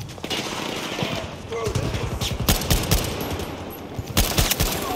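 Loud, rapid bursts of G428 rifle fire in the shooter game Battlefield 2042, with clustered shots separated by short pauses and game ambience underneath.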